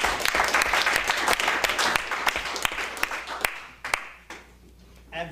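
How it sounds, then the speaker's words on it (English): An audience at the SF ASA evening event applauds the Green Cross staff, a dense, steady patter of many hands clapping with sharp individual claps standing out, thinning toward the end as a voice begins to speak. "Please give them a big round of applause."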